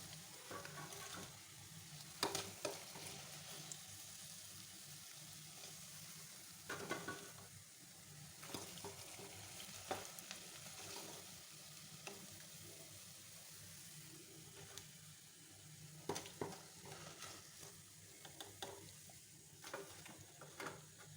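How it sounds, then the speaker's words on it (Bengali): Steady bubbling sizzle of battered bok phool (hummingbird tree flower) fritters deep frying in oil, with occasional louder crackles and spatters throughout. "আমি এবার এরকম করে সব ভেজে নেব"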